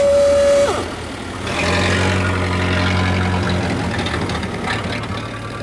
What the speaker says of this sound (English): let the magnificently maintained heart of his car tick over happily at under 100 revs per minute